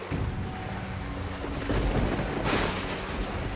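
A thunderstorm over the sea in an animated Little Mermaid tale: a dense, roaring rumble of wind and waves swells louder midway with a sharp thunderous burst, alone without speech.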